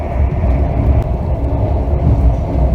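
Steady, continuous rumble of a Bergen–Oslo train rolling along the rails beside a Norwegian fjord, a dense low drone with no pauses and no voices.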